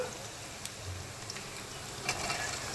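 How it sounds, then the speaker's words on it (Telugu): Onions frying in a pan for masala semiya upma, a faint continuous hissing sizzle with a few soft stirring ticks, quiet and even throughout. "ఆనియన్స్ ఫ్రై అవుతున్నాయి ఫ్రెండ్స్."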